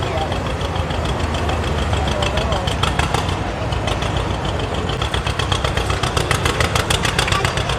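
A John Deere tractor with a big side flywheel idles steadily at a fair tractor pull, a loud continuous throbbing engine with faint rhythmic knocking and a busy crowd in the background.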